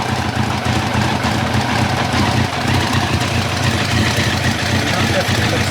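A 1990 Kawasaki ZZR1100 motorcycle engine idling with a cylinder misfiring and dropping in and out, spitting back through the carburettor, a loud, close, continuous rough rumble with uneven pulses throughout.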